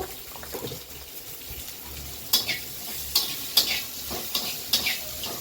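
Salted onions soften in a hot pan with a low steady sizzle, broken by several sharp scraping clicks of a spatula stirring against the metal, close and moderately quiet.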